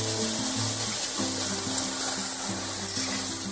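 Scrambled eggs sizzle in a pan with ghugni being added, a steady close frying hiss with intermittent scraping and stirring, no voices.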